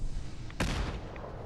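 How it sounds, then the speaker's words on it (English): A fragmentation grenade explodes in the video game Fallout 4 with a single sharp, loud boom that decays quickly over a constant rumbling background. "I said I wasn't going to be using plenty of fragmentation grenades,"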